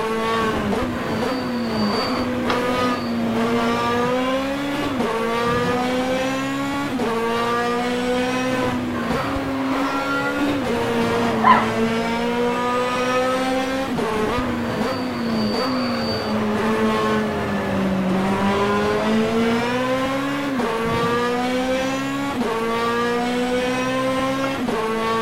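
A Ferrari race car engine roars steadily in the Automobilista racing game. The loud, continuous high-revving drone rises and falls through gear changes, with occasional brief tire squeal and no voices.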